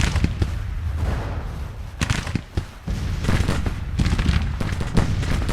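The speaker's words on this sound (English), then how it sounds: "Oh, they're already shooting." Rifle fire from a Civil War video game battle crackles as a steady series of scattered gunshots, some near and sharp and others more distant, over constant battlefield rumble.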